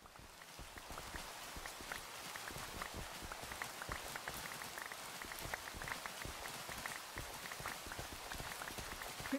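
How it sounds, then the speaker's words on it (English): Steady rain in the video game Minecraft, a dense, even patter of drops falling throughout at constant loudness, with no talking over it. "I was like, damn, this sounds like rain. It just is rain."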